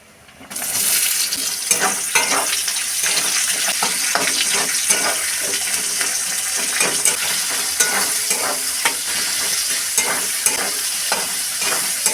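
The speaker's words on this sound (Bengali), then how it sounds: "দিয়ে দেবো পেঁয়াজ। পেঁয়াজ লাল লাল করে ভেজে নেব।" Onions fry steadily in hot oil with cumin, whole garam masala and bay leaves, a continuous bright sizzle broken by repeated scrapes and stirs of the spoon, close and fairly loud with no talking.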